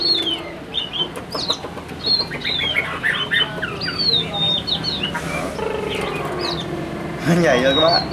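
A Chinese hwamei songbird with a spread tail sings a long run of bright, varied whistles and chirps, close and steady, while someone talks over it throughout.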